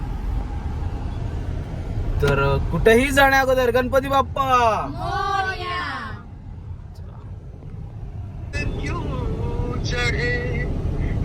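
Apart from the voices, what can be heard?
car driving, heard from inside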